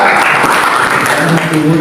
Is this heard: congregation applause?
yes